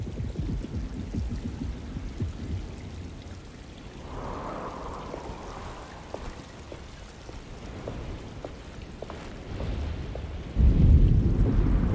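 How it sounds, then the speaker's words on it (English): Steady rain patters through a thunderstorm in the horror game Alone in the Dark, with scattered drips, a low rumble near the start and a heavier surge of rain toward the end. "Just keeping an eye out for the storm."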